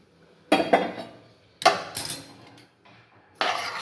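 A spoon stirs pongal with fried cashews in a pot, giving three bursts of close scraping and clinking against the metal with quiet pauses between them.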